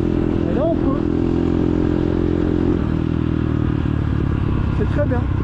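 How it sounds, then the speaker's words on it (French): A CRZ 140 or Bastos MXF 150 motorcycle rumbles steadily in fourth gear at very low revs, a close, continuous engine drone with faint clatter, while a rider's voice talks over it. "Là je reste en 4, en tout bas régime, voir si elle déconne."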